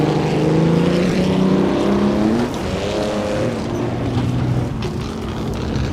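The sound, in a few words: 1937 Auto Union race car engine, Assetto Corsa video game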